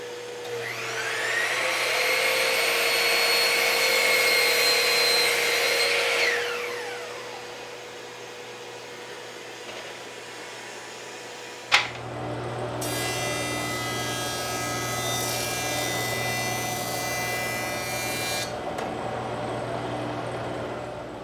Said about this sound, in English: then we'll start jointing and planing these boards